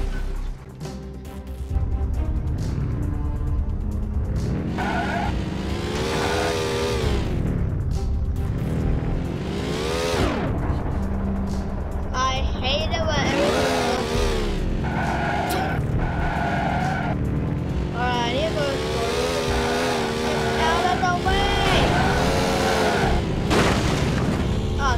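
Car in the driving game Sandbox City, with continuous engine roar, tire skids and booming crash impacts layered over a game music bed, loud and steady throughout without speech.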